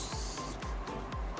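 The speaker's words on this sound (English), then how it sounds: "spray the fixing spray." Makeup fixing spray is misted in short bursts, roughly three or four quick hissing puffs in a steady rhythm. Each puff is close and fairly soft.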